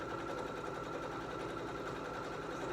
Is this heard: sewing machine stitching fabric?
yes